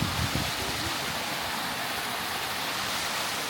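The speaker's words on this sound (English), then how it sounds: "Best waterfall ever." A mountain waterfall in the woods pours steadily, a constant broadband rushing roar from start to finish with no break.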